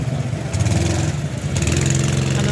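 Go-karts running on an outdoor track at Dawlish Warren, a steady mid-pitched engine drone that rises and falls slightly as karts rev and pass, continuous and fairly close, with no talking.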